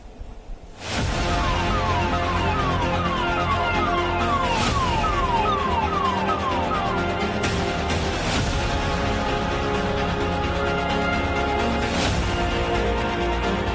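Outside Lok Nayak Jai Prakash hospital in Delhi, an ambulance siren wails loud and close, with a fast repeating up-down sweep that runs continuously over traffic noise.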